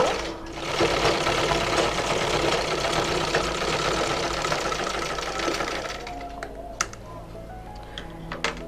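Sewing machine stitching pleats on a child's long gown, a dense, steady mechanical whir running loud and close for several seconds before stopping, followed by a few faint handling clicks.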